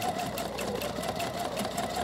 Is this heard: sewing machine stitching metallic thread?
yes